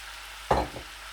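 Boiled noodles are tossed into soy sauce in a hot pan for chicken noodles: one brief, close stir-and-sizzle burst over a soft, steady kitchen hiss.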